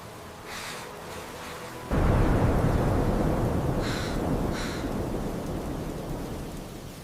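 Thunder rumbles over a heavy rain downpour that surges loud and steady at about two seconds, with a couple of brighter crackles of thunder partway through and no voices.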